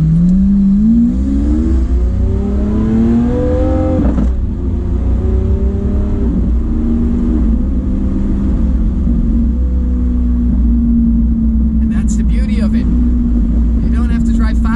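Lamborghini Aventador S Roadster with the roof off, its engine revving and accelerating in rising and falling sweeps, loud and close, continuous throughout with a few brief clicks near the end.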